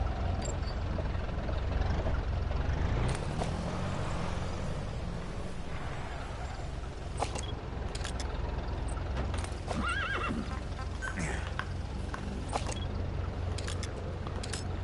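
In the Metal Gear Solid 5 game, a horse lets out a whinny and its hooves clip-clop against a constant ambient game backdrop, with scattered sharp hoof hits throughout.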